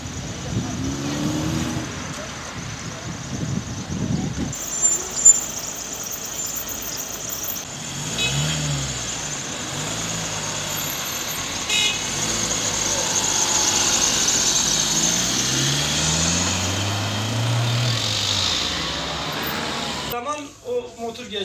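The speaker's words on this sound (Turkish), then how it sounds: "Motor geçiyor. Aşın avu geçen motor." A motorcycle passes along a street, its engine note rising and falling as it goes by, amid steady traffic noise. People talk nearby.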